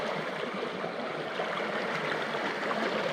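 A strong, fast-flowing stream rushes steadily and close by, a dense continuous wash of water with no voices.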